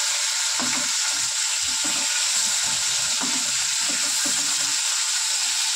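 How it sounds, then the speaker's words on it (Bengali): Koi fish frying in hot oil in a pan give a steady, close hiss of sizzling with soft low knocks and bubbling underneath throughout, and no voices. "মাছ ভাজা হয়ে গেছে"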